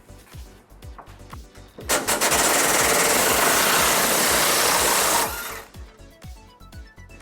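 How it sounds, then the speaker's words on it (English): An 18mm socket on a power tool removes a rear frame bolt on a 2008 Ford Ranger. Rapid rattling clicks build into a loud sustained buzzing whir lasting several seconds, then fall back to ratcheting clicks. "we're going to remove this bolt towards the rear of our frame using an 18mm socket"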